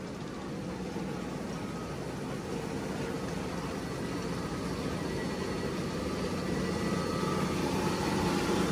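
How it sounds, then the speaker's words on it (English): Vibrating shaker screen at a sand washing plant, a loud, steady broadband mechanical roar and rattle with a low rumbling drone that continues evenly and grows slightly louder, with no talk. "This is about how fast it's shaking."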